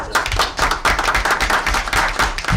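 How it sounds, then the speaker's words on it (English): A round of applause at a township council meeting, loose, uneven clapping from a modest group in a room, fairly close, with distinct rhythmic bursts of hand claps. "I think Nick also deserves a good round of applause for what he did."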